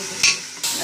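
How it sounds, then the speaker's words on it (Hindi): Haleem mixture being stirred and fried in a pan, with a scraping stir and a steady sizzle throughout the short stretch, a sharper brief scrape near the start. "और इसको थोड़ा सा भूनेंगे"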